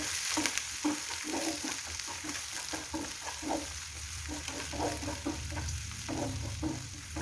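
Green chilies sizzle in hot oil in a pan while a spoon stirs them in a regular scraping rhythm, close and steady, with no talk over it.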